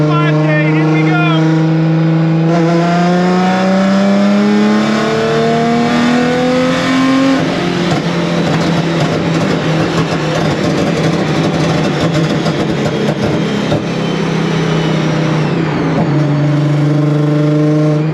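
A supercharged Nissan 350Z engine pulls hard from 3,000 to 5,000 rpm, its loud harmonic drone climbing steadily in pitch with a brief gearshift dip and rising again, close and continuous throughout.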